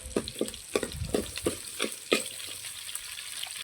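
Shallots with mustard seeds, fenugreek and curry leaves fry in oil for a village-style fish curry cooked over a wood fire, giving bursts of crackling sizzle and stirring strokes up close.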